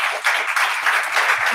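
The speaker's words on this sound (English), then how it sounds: "Let's give them a round of applause." Audience applause for a panel of speakers at an evening global health advocacy event, dense and steady clapping from a crowd with no talk over it.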